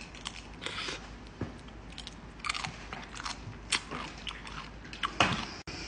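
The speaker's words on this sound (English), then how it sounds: "It's so crunchy." Close, crisp crunching bites and chewing of a frozen fruit roll-up wrapped around ice cream, a series of sharp separate crackles at irregular intervals in an otherwise quiet setting.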